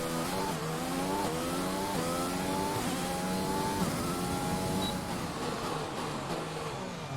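A Mercedes-powered Formula One car in F1 2020 roars through practice at the Bahrain Grand Prix, its engine pitch climbing through repeated revving upshifts and dropping between them, loud and continuous with no voices.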